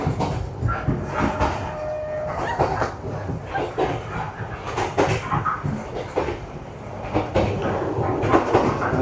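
Vietnam's Reunification Express overnight train rolling on its rails, a steady rumbling clatter with rhythmic knocks from the wheels and creaks from the carriage, heard from inside the moving car.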